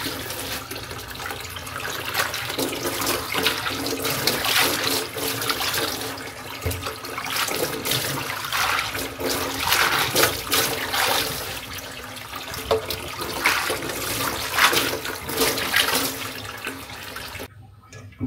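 Tap water runs steadily into a kitchen sink as leafy greens are rinsed of soil and sand, a continuous close splashing with small surges, cutting off near the end.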